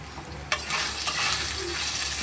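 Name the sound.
stirring ginger and cumin paste in frying pan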